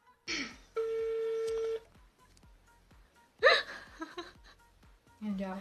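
A mobile phone dials, giving a few short beeps and one longer steady tone, broken by breathy bursts, a hiccup-like sound and laughter nearby.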